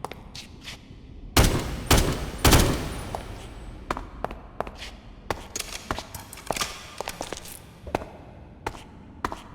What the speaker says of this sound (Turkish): Beni vurdu kendi silahımla.